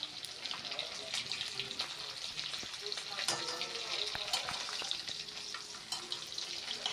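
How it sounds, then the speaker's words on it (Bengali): Hilsa fish pieces fry in hot oil in a pan, giving a steady crackling sizzle with occasional sharper pops and scraping as the pieces are turned and stirred, and a little running water in the background. "ইলিশ মাছগুলো এভাবেই উল্টে পাল্টে নেড়ে চেড়ে আমি লাল লাল করে আরও ভেজে নেব।"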